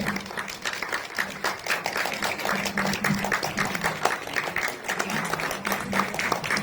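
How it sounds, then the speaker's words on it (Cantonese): An audience applauds the film team for Gamer Girls as they come on stage, a steady wash of many hands clapping without pause throughout, with a faint hum underneath. "掌聲歡迎我哋電影台前幕後嘅團隊咧，今日一齊嚟到見下大家嘅"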